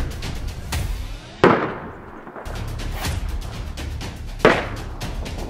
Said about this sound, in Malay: Tiba-tiba kedengaran bunyi tembakan pistol daripada arah kiri